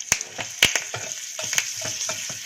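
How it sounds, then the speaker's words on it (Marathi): Curry leaves crackle and spit in hot tempering oil with mustard seeds, sesame and asafoetida, flame just turned off, for a guava chutney: close, busy sizzling with sharp pops scattered throughout, no talking. "यामध्ये कढीपत्ता पाने घालूया"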